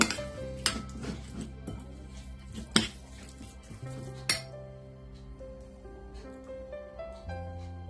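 Whole spices, two cinnamon pieces, four small cardamom pods and five cloves, are mixed together in a dish for chickpea pulao masala. The result is a series of light clinks and taps of spices and utensils against cookware, moderately close, with no talk.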